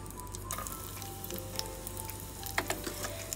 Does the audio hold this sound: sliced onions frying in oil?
yes